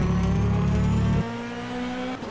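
Ferrari race cars roar down the main straight at Interlagos in the rFactor racing game, a loud sustained engine drone that abruptly drops in pitch and level halfway through, leaving a thinner engine tone alone.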